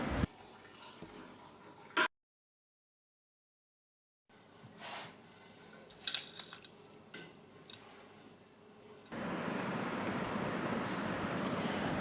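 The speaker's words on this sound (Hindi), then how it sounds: "अब हम इसमें पानी के शामिल करेंगे और पानी जो है ये नीम गर्म, हल्का गर्म पानी है" Lukewarm water is poured into paratha dough in a home kitchen, a sustained, even trickling hiss that starts near the end after quiet handling taps and a silent gap.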